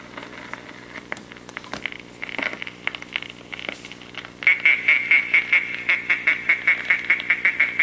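A vinyl record of a French novelty song plays, starting muffled under surface crackle, then a bright repeating accordion-like melody with a steady bouncy beat comes through clearly, no talking.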